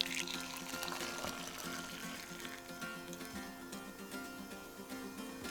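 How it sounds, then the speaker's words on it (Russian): Hot water poured over ground coffee in a small mesh strainer, a soft continuous trickling splash that gradually eases, close by and moderately quiet, with no speech. "заливаем горячую воду."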